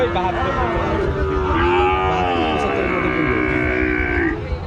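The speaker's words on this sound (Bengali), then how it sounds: "রাজা ভাইয়ের তিন চারটা গরু আছে" A cow gives a long, drawn-out moo close by at a calf cattle market in Rajshahi, its low tone wavering over a steady background of outdoor noise.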